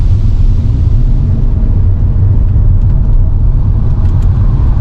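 A BMW E38 740i L V8 driving on the road, a loud, steady low engine and exhaust rumble with road noise, continuous throughout.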